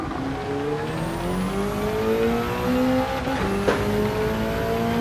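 A BMW race car in Gran Turismo 7 pulling into the pits on medium tyres, its engine droning steadily with pitch rising and dropping through gear changes, close and loud with no talk.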